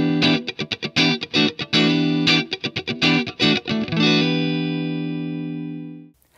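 Clean electric guitar notes picked in a quick rhythmic pattern, then a final chord left ringing out and fading before being cut off.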